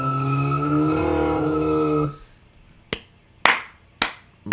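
A front-wheel-drive Volkswagen GTI tuned to Unitronic Stage 2 launches under launch control, a loud sustained engine drone with tire spin that cuts off abruptly, followed by three sharp hand claps.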